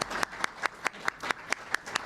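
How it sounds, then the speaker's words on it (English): A single pair of hands claps slowly and evenly, about nine close, crisp claps in steady rhythm, with no voices over them. "So if you would applaud for Susan Fitzpatrick."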